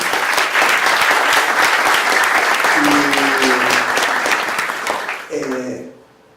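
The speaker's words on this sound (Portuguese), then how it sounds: "Eu peço uma salva de palmas a eles" An audience at an innovation event claps in a full, steady round of applause that fades out near the end as a voice begins speaking.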